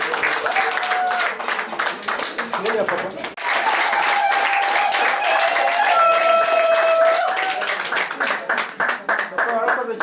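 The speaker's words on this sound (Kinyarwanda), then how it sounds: "Amashyi tena tubikomera amashyi." Wedding guests at a civil dowry ceremony applaud loudly in a dense, steady patter of clapping that lasts the whole stretch. A voice speaks briefly over it, and a few cheers ring out.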